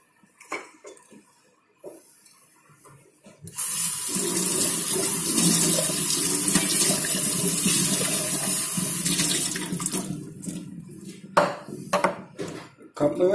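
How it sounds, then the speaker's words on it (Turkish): Lab containers being washed under a running tap, a steady loud gush of water starting a few seconds in, with clinks of glassware and handling noises before and after the flow. "Kapları her kullanımdan sonra yıkıyoruz arkadaşlar ve saf suyla duruyoruz."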